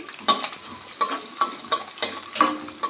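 Onion and green chillies frying with cumin in a pan for upma, stirred in quick regular scrapes about twice a second over a steady close sizzle, no voices.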